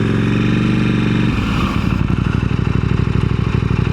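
A KTM 890 SMT motorcycle engine runs loud and close, its steady rumble changing rhythm partway through as the bike shifts toward neutral and settles into a pulsing idle.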